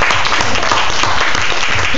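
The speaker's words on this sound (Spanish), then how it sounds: "Den un aplauso a nuestro Señor Jesucristo en esta preciosa noche." Loud, close congregational applause fills a Spanish-language evening church Bible study about Easter and Christ's death, a dense burst of clapping with no voices over it.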